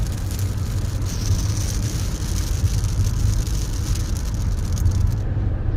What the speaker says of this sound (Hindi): देखिए कितनी तेज़ हो गई है बारिश